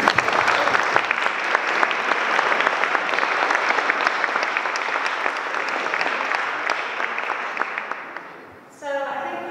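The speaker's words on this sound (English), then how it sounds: "let's give us all a round of applause just for that" Audience applause at a tree art sale and auction in St. Peter's London, a sustained close patter of clapping that fades out before a voice starts speaking at the end.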